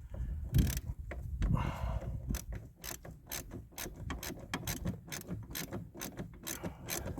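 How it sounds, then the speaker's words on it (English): A hand ratchet works on a heavily rusted car part with a rapid run of sharp clicks, followed by slower, regular clacks as the fitting turns. "we'll put the old ratchet onto her anyway and see what it says."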